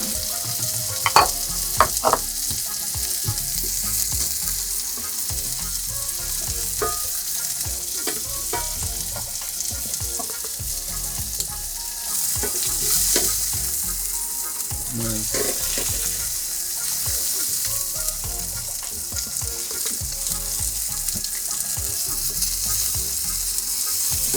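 Steady, loud sizzling of food frying in a pan of olive oil and butter with pepper and baking soda, a continuous hiss with occasional stirring scrapes throughout, close by and with no talk.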